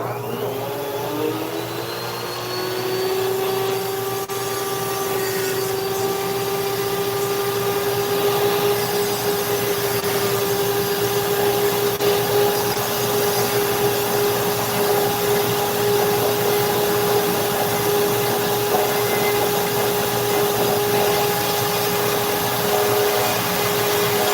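Dremel rotary tool on a flex shaft carving an owl from wood: a steady high-pitched motor whine that spins up in the first seconds, then holds a continuous, loud, even drone with slight grinding texture throughout.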